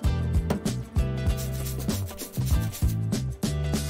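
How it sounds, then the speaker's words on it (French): A shower puff scrubs foam-covered skin in quick, rhythmic rubbing strokes, close and fairly loud, with short pauses between bursts. "Frotte, frotte, frotte!"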